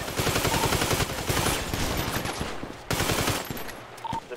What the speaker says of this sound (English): What the fuck type gun is that?